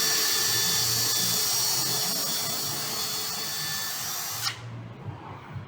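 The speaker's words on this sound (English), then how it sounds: "And you can use less force on the drill as well, and that'll allow it to cut through the timber" A power drill bores through timber with a loud, steady high whine held for several seconds, then cuts off abruptly, leaving low room noise and a couple of soft knocks.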